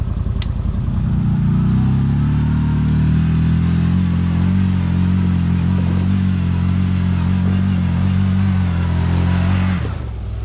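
An off-road vehicle's engine drones steadily and loudly up close as it crawls slowly up a hill with the front end locked. The low, even hum continues with faint clatter until it cuts off near the end.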